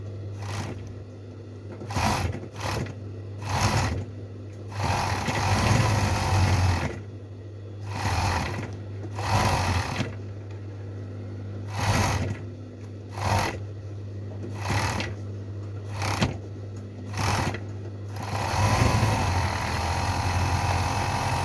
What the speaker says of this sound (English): I'm going to go back to Sija machine and weave this hem to knit them up with the matching color.